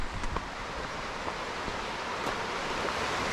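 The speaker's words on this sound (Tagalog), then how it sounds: "Lakas ang agos ng tubig dito." A fast-flowing stream at Washpen Falls, New Zealand, rushing strongly in a constant broadband roar with no breaks, close to the listener.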